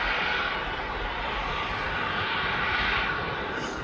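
Airbus A306 engines run loud and steady during pushback at East Midlands Airport, a continuous broad jet roar with no break across the whole stretch.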